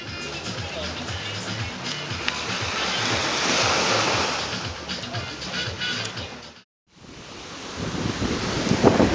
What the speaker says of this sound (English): We have managed to smuggle ourselves onto a private beach unnoticed.